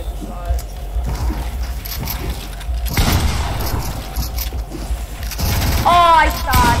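Bursts of gunfire and impact booms in a Fortnite boxfight match, dense and close, mixed with mechanical clatter and a voice talking over the action.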